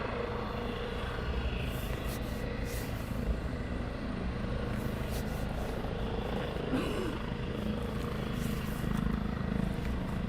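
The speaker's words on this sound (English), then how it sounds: "Seeing a Chinook bring a load up like this is pretty awesome." A Chinook helicopter lifts an underslung load during training at an airfield, heard as a steady, distant rotor drone and rumble that holds evenly throughout.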